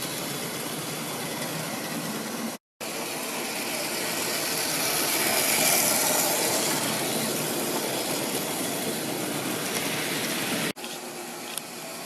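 A second-hand Mainline Peak Class 45 model diesel locomotive with four-wheel pickup runs on a model railway layout, giving a steady close whirring motor hum with faint track rattle, briefly cut twice.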